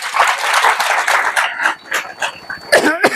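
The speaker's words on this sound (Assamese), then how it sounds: "ডাঙৰ তালি বজাই দিব প্লিজ।" Applause from a seated congregation at a Christian sermon gathering, a dense wash of clapping with a brief dip near the end before a fresh burst; a dog barks faintly in the background.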